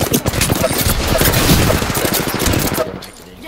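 Rapid automatic gunfire in a video game, a dense, loud continuous burst that fills the clip and cuts off near the end, with no clear talk over it.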